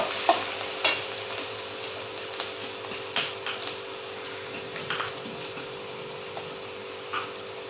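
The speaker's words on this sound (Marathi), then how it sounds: "आता बारीक ठेचलेला लसूण टाकून घेते." Crushed garlic frying in a pan with sautéed onion for a cauliflower and potato curry: a steady, soft sizzle with occasional sharp clicks from stirring, and no talking.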